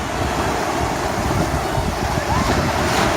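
Sea waves washing into a clean cove on the Aegean coast of Turkey, a steady close wash of surf with wind noise throughout, no voices.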